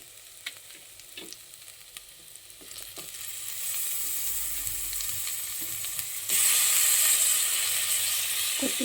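Tomatoes frying in a pan with ginger-garlic paste for paneer biryani, giving a steady sizzle that grows louder partway through, with scattered stirring clinks and scrapes and no talk.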